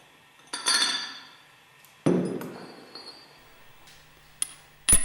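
Metal plate being lifted off the bowl of a Westfalia OSD centrifugal separator during dismantling: a few sharp metallic clinks and clanks with ringing tails, separated by quiet gaps, close and fairly loud.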